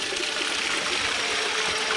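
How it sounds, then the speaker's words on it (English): Water pours and splashes steadily into a bucket, rinsing down sluice concentrate from a cleanup sluice at a creek, a continuous close trickle and wash with no clear pauses. "Bit more water, wash the bottom of the bucket, in you go."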